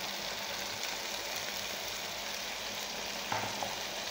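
Green chillies and tomatoes fry in masala for a chicken and cauliflower curry, a steady close sizzle with occasional stirring scrapes and a sharper clatter near the end, no voices.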